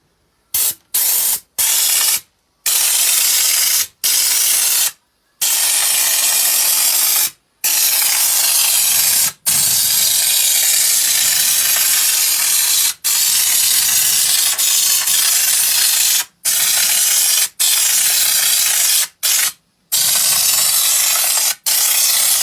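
Gravitex stone-chip coating sprays onto a Jeep CJ5 in repeated hissing bursts of one to several seconds, separated by short silent pauses, loud and close with no talking.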